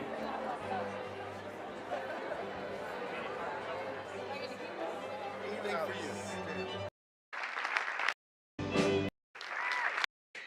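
A crowd at a live event claps and chatters in a loud, sustained wash of applause, which then cuts in and out in choppy bursts separated by short silences.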